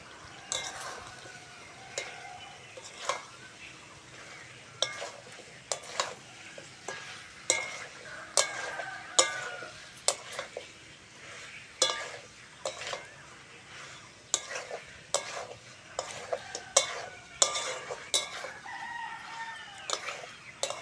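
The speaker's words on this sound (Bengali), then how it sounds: "সঙ্গে এঁচোড় আর আলুটা ভালো করে কষতে হবে।" Young jackfruit and boiled potatoes sautéed with fried spices in a pan, giving a steady soft sizzle broken by repeated sharp scraping clicks of a spatula stirring, with no talking.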